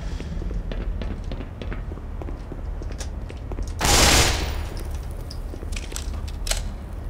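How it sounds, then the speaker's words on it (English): Gunfire in the video game Black Mesa Source: a steady patter of rapid shots and impacts, with one loud, bursting blast in the middle, followed by further scattered shots. "Now we got some serious shooting action here"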